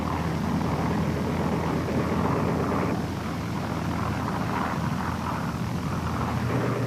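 A WWII American attack aircraft flies over Leyte Gulf in old archival film, a loud, dense engine roar that holds steady throughout.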